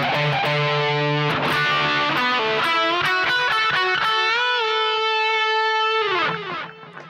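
Distorted electric guitar plays the first section of the final solo of a song, a run of quick picked notes that settles into a long sustained bend before fading out, loud and alone.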